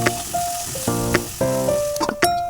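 Mustard seeds, onions, chillies and tomato sizzle in hot oil as the base of a chicken curry, a steady close frying hiss with brief stirring bursts and some tonal sounds mixed in.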